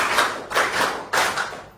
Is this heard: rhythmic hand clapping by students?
yes